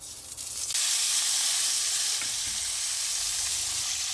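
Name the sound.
onions and tomatoes sizzling in hot oil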